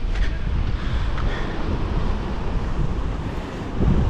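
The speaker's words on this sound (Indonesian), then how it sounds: "Karena ini anginnya kencang sekali." Strong, gusty coastal wind at Batu Roti near Lewotobi in East Flores, a loud continuous roar buffeting the microphone with deep rumbling low end, heard alone without talk.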